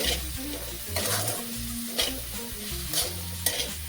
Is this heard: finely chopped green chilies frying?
yes